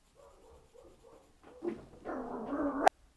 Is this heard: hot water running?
no